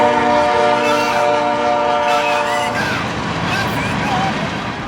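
A northbound CSX freight train coming up from Florida rolls past at Race Pond, Georgia, its horn blowing a loud sustained chord over the rumble and clatter of the cars, then fading as the wheel noise carries on.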